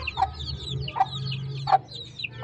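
Repeated soft clucks from a hen, about three short calls spaced roughly evenly, over low steady background noise.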